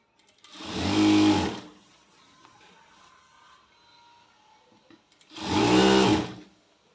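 A sewing machine stitching a maxi skirt seam runs in two short bursts of a second or so each, loud and close, separated by a quiet pause filled with faint handling of the fabric.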